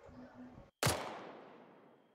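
A gun fires once in a video game: a single sharp, loud blast after a brief silence, followed by a long decaying echo tail.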